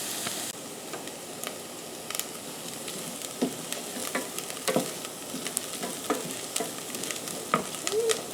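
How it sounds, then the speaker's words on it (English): Softened onions sizzle steadily in a pan as a base for a simple marinara, with a continuous hiss broken by occasional scraping and clinking stirs close by. "The onions are cooking down really good and starting to get soft and"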